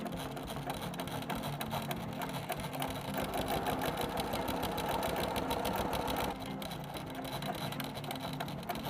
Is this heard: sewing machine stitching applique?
yes